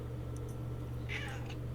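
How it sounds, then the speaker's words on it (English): An adult male cat lets out one short, angry meow, faint against a steady low hum, with a couple of soft ticks just before it. "he meows at me angrily"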